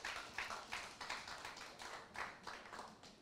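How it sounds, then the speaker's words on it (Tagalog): A church congregation at a Sunday service claps in praise of the Lord. Steady rhythmic clapping repeats at an even pace, heard from some distance and fairly quiet. "Palakpakan po natin ang atin pong Panginoon."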